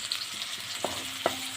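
Onions fry in oil or ghee with a soft continuous sizzle, and two quick scraping stirs stand out near the end.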